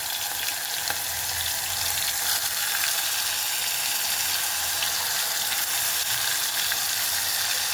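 A ground paste of onion, tomato, ginger and garlic sizzles and spatters steadily in hot oil for an Indian bottle gourd curry, a bright continuous hiss heard up close with no talking.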